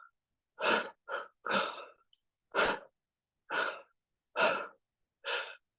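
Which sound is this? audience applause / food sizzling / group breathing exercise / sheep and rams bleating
group breathing exercise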